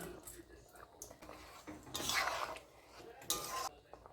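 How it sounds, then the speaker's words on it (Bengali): Fried dried shrimp are added to boiled taro in a pan, giving faint scattered clinks of a utensil against the pan with a couple of louder scraping rattles, close by and quiet. "এখন আমি এই ভেজে রাখা শুকনো চিংড়ি মাছগুলো দিয়ে দিচ্ছি"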